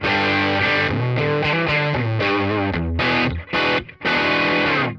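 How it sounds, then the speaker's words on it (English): Heavily overdriven electric guitar through a Tonex Pedal amp modeler rings out in driving chords and riff phrases, with a few brief choppy gaps near the end, loud and alone. "when I solo this track, you're going to be hearing Tonex Pedal."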